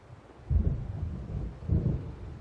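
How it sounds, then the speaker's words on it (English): Low rolling thunder from an approaching storm in the video game Alan Wake, heard as two deep muffled rumbles that swell and fade against a soft windy background. "It seems there's a storm coming."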